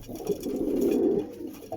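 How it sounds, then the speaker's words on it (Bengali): Andhra Star Kalanka pigeons coo in a low, throaty, continuous murmur close by, swelling through the middle before a brief pause and one more short coo. "পায়রার কোয়ালিটি দেখে নিন।"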